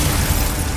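A Confringo fire spell bursts in Hogwarts Legacy, a short loud explosive boom with a dense rumbling blast that fills the brief moment, no voices.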